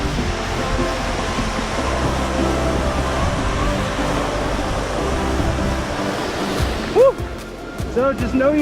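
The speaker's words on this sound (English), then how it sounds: "I'm just hanging over the edge of this huge waterfall" Inudey Falls, a huge waterfall in Mankayan in the Philippines, gives off a steady, loud roaring rush of water close by. Near the end a person speaks over it.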